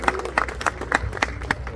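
An audience claps at a cultural event's poetry session, a fairly close, moderately loud patter of hand claps with a steady, uneven rhythm and no talk over it.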